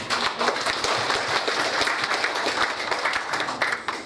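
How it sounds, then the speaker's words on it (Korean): A general-meeting audience at a Korean community federation gathering gives a short round of applause, steady and fairly close, with no one speaking over it. "박수 한번 부탁드립니다"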